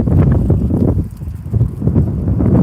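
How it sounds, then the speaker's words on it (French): Strong wind buffets the microphone in loud, low rumbling gusts that rise and fall continuously. "Je sais pas si on m'entend parce qu'il y a beaucoup de vent"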